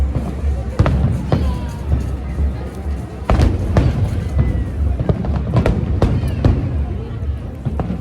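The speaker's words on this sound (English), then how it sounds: "Look at all those fireworks." Fireworks go off at Global Village in Dubai, a steady crackle of pops and sharp bangs against the noise of an outdoor crowd, with people's voices mixed in throughout.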